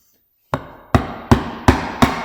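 A chisel struck lightly to cut a housing joint in wood, five sharp taps at an even pace, each clear and close with a short ring-off, alone in a quiet room.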